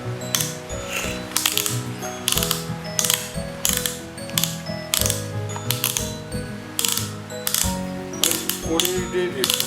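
Mechanical ratcheting on an Abeden cordless chainsaw as the chain tension is adjusted, a close, loud series of rhythmic clicking bursts repeating roughly every half second, with a voice speaking faintly underneath.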